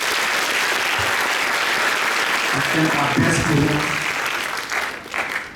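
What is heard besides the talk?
audience applause for Dr. Jagdish Sonawane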